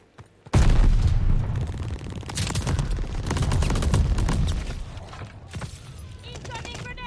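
A loud, close sticky bomb blast in Call of Duty Vanguard booms suddenly, then rapid gunfire crackles in sustained bursts that fade toward the end, with voices talking over the action.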